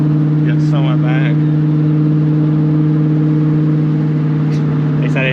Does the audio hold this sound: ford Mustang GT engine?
yes